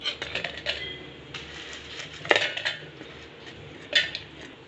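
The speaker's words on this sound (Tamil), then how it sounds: "இது ஒரு மிக்சி ஜாரில் போட்டுக்கலாம்" Cooled chutney ingredients spooned into a mixer jar, a string of close metallic clinks and scrapes of spoon against jar, with a couple of louder knocks, no voices.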